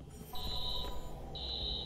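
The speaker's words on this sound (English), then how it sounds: "Alarm's been tripped." Electronic alarm tone sounding in the Watch Dogs video game, a steady high-pitched beep held for about a second, a short gap, then resuming, moderately loud over a low background hum.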